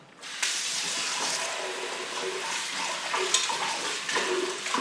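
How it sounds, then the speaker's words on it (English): Water runs and splashes steadily while orchid roots get a quick rinse, a close, continuous hissing wash that lasts throughout with small sloshing variations and no talk. "So let's dump that out, and I'll do a quick wash."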